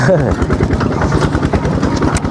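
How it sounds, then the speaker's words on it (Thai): A farm tractor engine chugs with a rapid, steady thumping pulse on a rural Thai rice-field job, loud and close, with a voice talking and exclaiming over the running engine. "มาขี่รถไถได้พี่น้อง"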